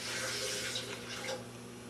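Two cups of water poured into a blender for homemade almond milk, a steady close splashing and running stream with no talk.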